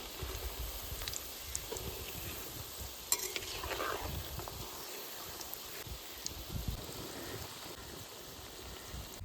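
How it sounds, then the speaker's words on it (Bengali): Fish roe fritters fry in a pan of oil on a village kitchen stove, giving a steady crackling sizzle with occasional stirring scrapes, fairly quiet and continuous with no talking. "মাছের ডিমের বড়া ভাজা হয়ে গেছে এবার তুলে নেব"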